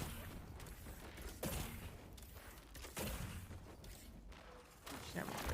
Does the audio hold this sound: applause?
no